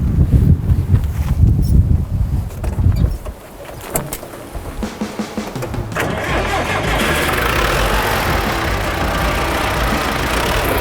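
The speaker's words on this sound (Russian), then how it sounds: "Сейчас Василий Алексеевич прокатит немножко на своем тракторе, покажет, как он им управляет" A tractor engine rumbles in uneven, choppy bursts at first, then settles into a steady, loud running drone close by.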